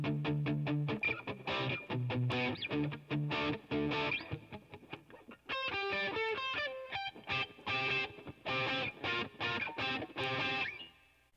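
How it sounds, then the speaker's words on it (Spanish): An electric guitar runs through stacked overdrive and distortion pedals, with the overdrive gain at halfway. It plays loud, crunchy chords and quick riffs in choppy bursts, then a brighter picked single-note passage, for about eleven seconds without talk. "a mí lo que me gusta hacer es hacer stack con el overdrive y la distorsión"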